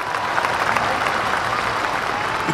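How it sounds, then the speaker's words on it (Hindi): A large crowd at a rally claps for religious leaders seated together on stage, producing a steady, dense wash of applause with no pause throughout. "एक बार ताली हो जाए इन लोगों के लिए"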